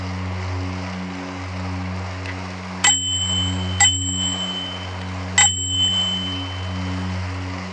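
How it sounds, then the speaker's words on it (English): Three sharp bicycle bell rings in a tunnel, each with a long metallic ring-out echoing in the enclosed space, over a steady low rumble. "I will ring the bell in the tunnel."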